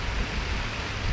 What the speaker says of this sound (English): it's just started raining heavily now.